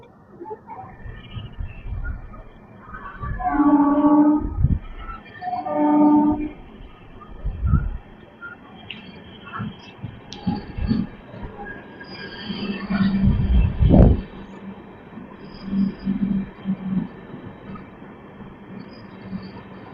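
An LHB-coach Sahid Express on the Howrah–Tarapith line rumbles along steadily, with rising clatter swells, a few sharp wheel knocks and bursts of louder rolling noise; brief muffled voices drift in near the start.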